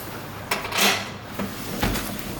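Sliding glass patio doors are pushed together while their lock is adjusted, giving a few soft sliding bumps and knocks spread over about two seconds, fairly quiet with no talking.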